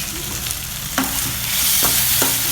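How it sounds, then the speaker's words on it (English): Bitter gourd and onions frying in a pan with a handful of tamarind juice added, giving a steady soft sizzle with a few stirring scrapes and clinks near the spoon, no voices over it. "add some tamarind juice to this, just a handful. Again, fry it till it is done."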